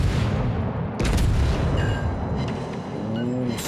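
Warship naval guns booming in the game World of Warships, with a heavy blast at the start, another sharp report about a second in, and a rumbling, echoing battle backdrop throughout.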